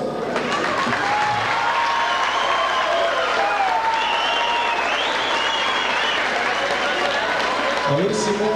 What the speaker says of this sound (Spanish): esto yo pienso que se demuestra con un fuerte aplauso.